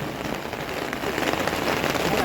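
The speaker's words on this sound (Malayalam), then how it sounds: "ആഹാ, മഴ, ഐസ് മഴ" Icy rain falls in the Doodhpathri valley of Kashmir, a dense continuous patter that is loud and close and grows slightly stronger. No voices are heard over it.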